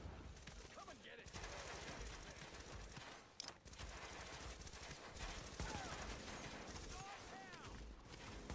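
Sustained gunfire in The Division, rapid bursts and automatic fire churning on for several seconds alongside game effects, with voices calling out during the fight.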